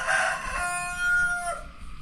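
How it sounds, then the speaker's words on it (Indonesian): A single rooster crows nearby in a remote village in Jombang, a drawn-out cock-a-doodle-doo that fades at the end over faint background noise. "masing-masing warga di rumahnya punya ayam kayak gini"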